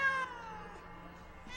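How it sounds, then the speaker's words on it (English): A cat meows in a drawn-out, tonal cry that starts loud and fades, with a second brief call at the end. "There's a cat eating its food. Here, kitty, kitty, kitty."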